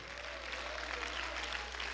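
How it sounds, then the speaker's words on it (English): A church congregation clapping hands together, a dense, steady wash of applause heard somewhat distant and soft throughout. "Clap your hands, all you people."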